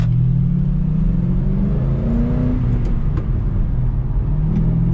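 A 2007 Shelby GT with a manual gearbox drives at steady speed, its engine giving a loud, continuous low rumble that rises slightly in pitch mid-way as it accelerates close by.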